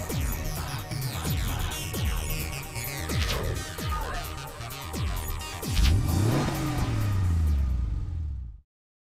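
A Porsche engine revs and accelerates in the racing game Need for Speed Porsche Unleashed. It makes loud, rising and falling sweeps through gear changes, with a deep throb partway through, before cutting off abruptly.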